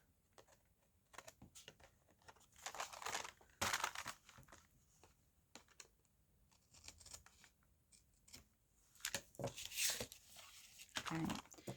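Scissors snip and trim a used paper envelope in short, intermittent cuts with paper rustling and crinkling between them, close and fairly quiet, with a person talking now and then.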